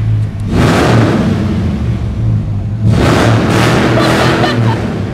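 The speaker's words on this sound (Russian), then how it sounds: "Вот это настоящий звук 5-литровый." A freshly started 5-liter car engine with a newly fitted exhaust runs indoors, a loud, deep burbling idle swelling into two throaty revs, close by and with no talk over it.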